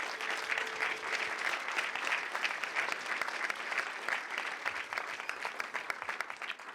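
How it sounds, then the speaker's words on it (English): An audience at an employee recognition awards and pin ceremony in a city hall gives a sustained round of dense applause, loud and steady throughout. "Big round of applause one more time."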